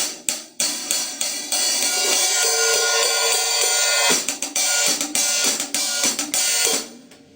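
Drum-kit hi-hat cymbals gradually opened with the foot pedal, a loud, continuous bright wash of sizzle with repeated stick hits that swells and chokes off in bursts, played alone.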